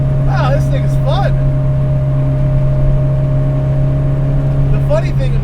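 The old school inline four engine of a modified Datsun 510 wagon drones steadily from inside the cabin while driving. The hum holds even throughout, and a voice talks over it at times.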